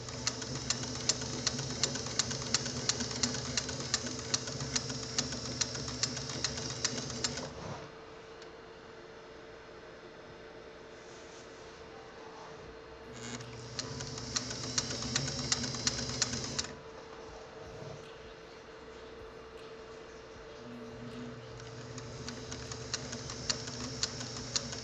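A sewing machine stitches a buttonhole with a rapid, steady mechanical patter, stopping for a long quiet pause, running again for a few seconds, then resuming; close and fairly loud, with no talking.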